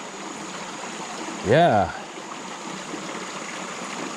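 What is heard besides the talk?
running water in a creek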